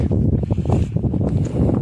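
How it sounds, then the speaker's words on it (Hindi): Cold wind gusts hard in the Himalayan mountains near Jolingkong base camp while snow falls, a loud continuous low roar buffeting the microphone with no talk. "ठंडी हवा चल रही है, बीच में फाहे भी बर्फ के गिर रहे हैं।"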